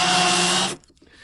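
A power drill bores a hole through an interior door with a loud, steady whine that cuts off abruptly, followed by faint handling noise.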